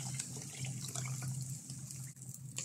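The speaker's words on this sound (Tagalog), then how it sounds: "Maglagay tayo ng tubig para hindi masunog." Water pours steadily into a cooking pot of potato soup seasoned with chicken cube, a continuous close, moderate splashing stream with no talk.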